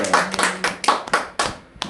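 Congregation clapping during a Korean church sermon: a short burst of distinct, fairly close hand claps in an irregular rhythm, with no talk over them.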